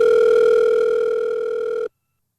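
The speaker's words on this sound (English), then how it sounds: "let me tap in the phone here. Let me give him a ring." A steady telephone tone sounds on a call being placed, one sustained electronic note with harmonics holding for almost two seconds before cutting off abruptly into silence.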